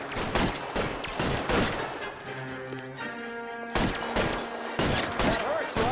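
Gunfire in the video game L.A. Noire, sharp bursts of rapid shots in two clusters with a ringing tonal tail between them, loud and close.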